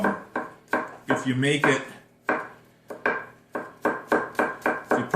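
A knife cutting vegetables for roasting on a board, a series of firm, evenly spaced chops close up, with a brief stretch of speech in the middle.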